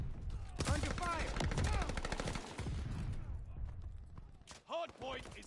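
Rapid automatic gunfire in a shooter video game, bursts of sharp cracks fired in quick succession, loud and close, with brief pauses and a voice speaking at the end.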